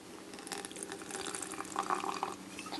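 Liquid glue trickling and splashing as a very small amount is poured into a little plastic applicator bottle, a close, continuous wet pour with light gurgles and no talking.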